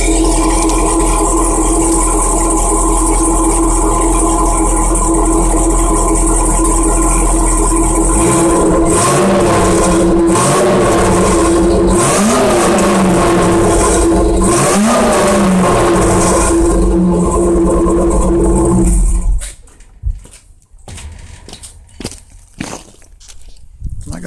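A 1984 Monte Carlo with an LQ9 engine revs through a new exhaust, loud and close, with steady roaring and several rising pulls through the middle before it cuts back to quieter idle and handling noises near the end.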